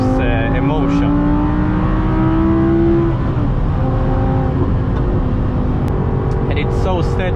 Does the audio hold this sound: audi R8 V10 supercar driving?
yes